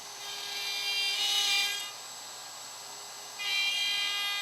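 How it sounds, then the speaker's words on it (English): A router with a straight bit cuts dovetail pins on a Leigh Super jig in wood, giving a steady high whine that swells into two louder cutting passes, one early and one near the end, with no talk. "Pins are routed using the same E-bush and the included straight bit."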